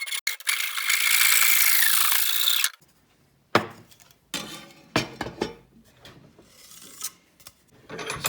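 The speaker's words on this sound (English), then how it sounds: "I need about 3 inches of PVC pipe, and cut this thing off" A short length of PVC pipe is being cut, making a continuous rasping saw stroke for a few seconds, then a pause followed by scattered scraping and clattering rubs close by.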